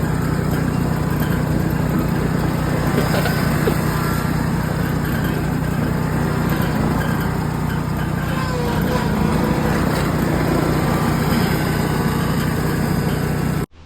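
An ExMark 44-inch zero-turn mower with its engine in the back runs steadily and loudly throughout, with a constant engine drone and a few brief revving surges.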